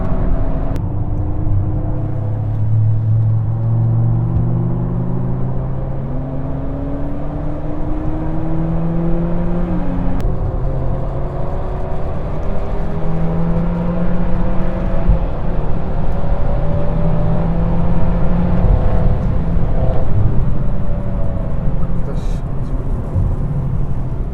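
A VW Golf 8 R four-wheel-drive hatchback is driven hard on a wet race track, its engine droning steadily and rising and falling through the gears for the whole stretch, loud and close, with someone talking over it.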